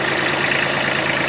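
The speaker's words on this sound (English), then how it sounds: "I'm using the good old Kubota tractor here" A Kubota tractor idles nearby on a house building site, its engine giving a steady, close, rhythmic diesel chug with a continuous mechanical hum throughout.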